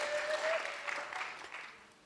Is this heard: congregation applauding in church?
yes